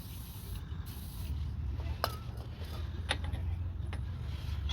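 WD-40 lubricant sprayed from an aerosol can onto a noisy car wheel, a steady close hiss running throughout with a few sharp clicks and creaks from the wheel mechanism.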